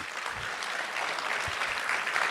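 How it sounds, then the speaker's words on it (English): A conference audience applauds a speaker, a dense, even wash of clapping that holds steady for a couple of seconds. "Can you have a huge round of applause for him?"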